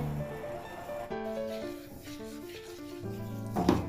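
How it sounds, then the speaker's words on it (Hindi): A spoon stirs and scrapes semolina roasting in a pan, soft gritty rubbing strokes repeating close by, quiet and steady under faint background music. "कॉन्स्टेंटली मैं इसमें चम्मच मार रही हूँ कि ये लगे ना"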